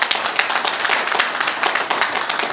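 A crowd applauds steadily, dense clapping from many hands filling the room without pause.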